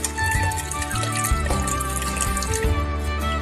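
Liquid pours continuously from a container into a vegetable beef soup pot, a steady splashing gurgle at close range, loud and unbroken with no talking.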